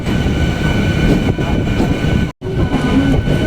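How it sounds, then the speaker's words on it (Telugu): A passenger train of ICF coaches on the Bengaluru–Chennai–Kanyakumari route rumbles past in the rain, a loud, continuous close roar with rail clatter, briefly cut by a sudden drop before resuming. "బెంగళూరు చెన్నై కన్యాకుమారి వీటి మధ్య తిరిగేటువంటి ట్రైన్ ఇది చూడవచ్చు ఇది కూడా ఐసీఎఫ్ కోచ్"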